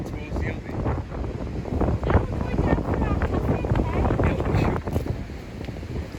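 Strong coastal wind buffets the microphone on a walk in Whitby, a constant roaring rush with gusty swells and no clear pauses.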